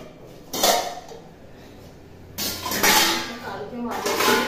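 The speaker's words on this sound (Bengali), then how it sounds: "এবার বাসনটা মেজে নেব" Pots and utensils being scrubbed and washed, bursts of rubbing, clattering and splashing noise in a few loud stretches with quieter gaps between, near and busy.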